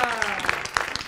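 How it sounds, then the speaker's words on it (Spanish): Audience clapping for a guest on a school show, a brief burst of scattered hand claps lasting about a second, mixed with cheering voices. "un aplauso para Iker"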